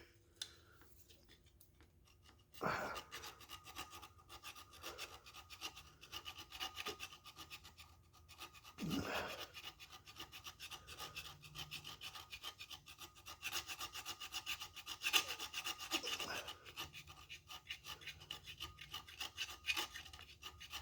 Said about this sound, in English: I can file this one flat to the surface